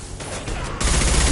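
Shotgun fire in the Mass Effect video game lands as a dense burst of loud combat blasts, coming in quick succession amid heavy in-game noise.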